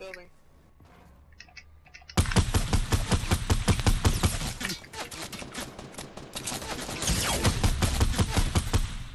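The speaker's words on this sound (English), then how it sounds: "He's shooting from inside the building." Rapid video-game gunfire from inside a building, loud dense bursts of shots starting abruptly after a quiet moment, with clicks and players talking over it.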